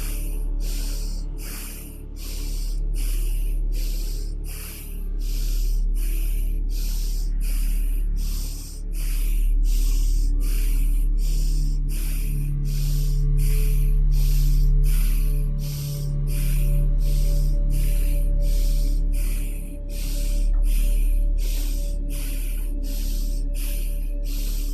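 Rhythmic, forceful yoga breathing in a guided session: loud, steady bursts of sharp nasal exhalations repeat about twice per second for the whole stretch, close and alone, with a low hum underneath.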